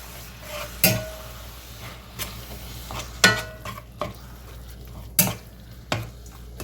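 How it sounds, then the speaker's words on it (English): A spoon stirs chopped Italian seasoning into casserole ingredients, giving a few distinct scraping, clinking strokes against the dish spaced through a quiet kitchen, with no one speaking. "Let us chop it up and stir it around."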